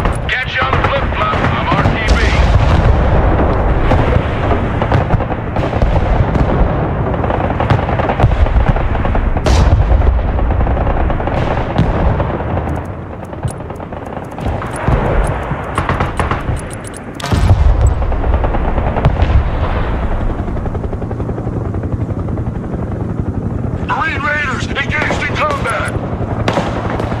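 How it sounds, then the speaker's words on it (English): A mobile artillery barrage in the war video game Broken Arrow, with loud continuous booming impacts and gunfire rumbling throughout, a brief lull midway, while a player talks over the battle. "Mobile artillery ready. Send mission."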